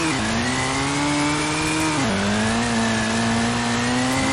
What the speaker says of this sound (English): Off the line, still a little slow there with the upshift.